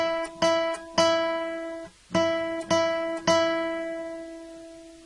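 Acoustic guitar lesson strumming the opening of the Jingle Bells chorus: six ringing chords in two groups of three, each struck chord sustaining clearly, played alone with no talking.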